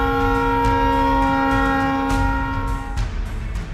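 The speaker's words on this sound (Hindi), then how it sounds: "हॉर्न बजाती हुई तेज रफ्तार से आती ट्रेन," A loud, sustained train horn blares steadily for about three seconds over the heavy rumble of a passing train, then cuts off.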